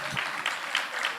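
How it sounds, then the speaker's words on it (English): Short, soft applause from an audience at the Ecobank Fintech Challenge 2024 semi-finals, a quiet patter of clapping heard briefly and somewhat distant. "Please give yourself a big round of applause"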